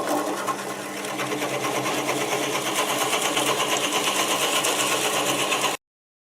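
Wood lathe spinning a black locust bowl blank at about 270 RPM with the cutting starting, giving a steady, loud mechanical hum with a fast pulsing rhythm that stops abruptly near the end.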